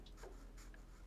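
Pencil drawing on paper, a few short soft scratchy strokes, very quiet and close, with no talking.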